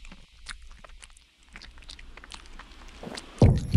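A dog in the video game Yomawari 3 chews on a bone, making soft, irregular crunching and gnawing clicks that end in a louder thump.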